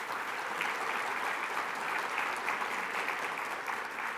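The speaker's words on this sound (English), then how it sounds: "how about another round of applause for them and the great work they do?" Dense, steady audience applause fills the room for the ACCS staff, a continuous wash of many hands clapping at an even level without any voice on top.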